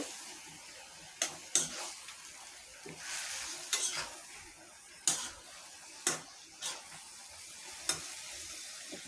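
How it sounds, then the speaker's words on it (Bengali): Chopped bottle gourd and onion stir-fried in a pan, a soft steady sizzle broken by about eight sharp scrapes and clacks of a spatula against the pan at irregular intervals. "এখন আমি লাউটা ভালোভাবে কষিয়ে নিব"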